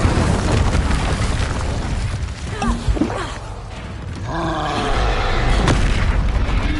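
Explosive blasting spells cast in Hogwarts Legacy on PS5, rumbling booms and creaking debris in a busy game battle mix, the loudest bursts arriving near the start and toward the end.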